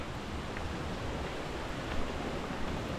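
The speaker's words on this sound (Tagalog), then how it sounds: "Narinig nyo yung agos ng tubig." Water flows steadily during a group outing, a dense, even rushing wash heard close and continuous throughout, with no voices.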